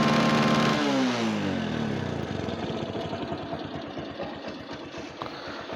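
A Bajaj Discover 135cc motorcycle in good condition runs nearby, a revved engine dropping in pitch, then settling into a steady, rhythmic putter of idle.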